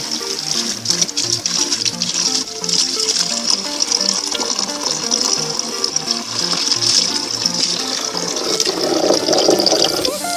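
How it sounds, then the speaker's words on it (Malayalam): Water pours steadily into a homemade air cooler, a continuous close splashing rush that runs unbroken for the whole stretch with no talk over it. "നമുക്ക് ഇനി ഇതിൻ്റെ അകത്തോട്ട് വെള്ളം ഒഴിച്ചു കൊടുക്കാം."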